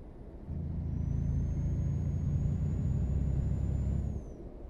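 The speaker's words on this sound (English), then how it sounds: "So when I let go of the accelerator, there is a whistle sound." A truck engine in Euro Truck Simulator 2 hums steadily while a thin, high whistle rises and holds for several seconds after the accelerator is released, then fades as the engine note drops.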